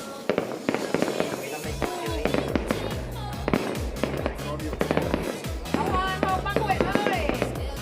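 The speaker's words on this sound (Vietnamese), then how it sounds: "Hiện tại là bắn pháo hoa này đang bắn ở huyện Hoàng Su Phi nha các bạn" Lunar New Year fireworks and firecrackers burst repeatedly over the highland district of Hoang Su Phi in Ha Giang, a dense barrage of sharp bangs and rumbling booms at close range, with voices talking over them.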